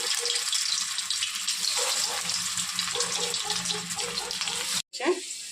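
A fish dropped into hot oil sizzles with a loud, continuous crackling hiss that stays close and dense, cutting out for a split second near the end before resuming.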